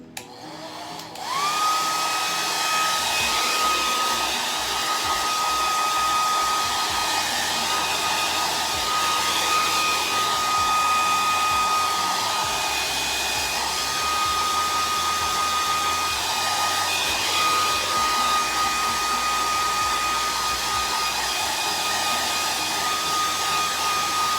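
A hair dryer blows steadily and loudly at close range over wet chalk paint, a continuous whining roar with a steady tone that runs uninterrupted for the whole stretch, no voices.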